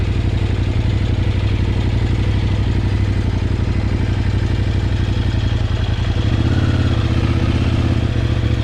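A Kove 800X Pro motorcycle being ridden gives a loud, steady engine drone with a throbbing beat that rises slightly near the end.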